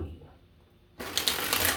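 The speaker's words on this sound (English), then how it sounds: "1 last shuffle for you, Sag." A deck of tarot cards is shuffled up close for under a second of crisp, dense riffling that starts abruptly after a quiet moment.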